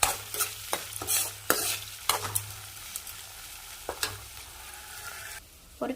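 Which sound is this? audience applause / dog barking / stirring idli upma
stirring idli upma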